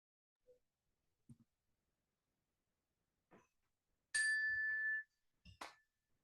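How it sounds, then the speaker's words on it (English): A meditation bell rings once with a clear, sustained tone that holds for nearly a second before fading, followed by a softer second strike, set among quiet pauses in a calm sangha meditation session. "You can just enjoy the sound of the bell as it fades."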